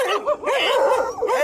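A shepherd's guard dog in rural North Karnataka, near a travelling flock of sheep, gives a quick string of close, loud yelping barks and whines.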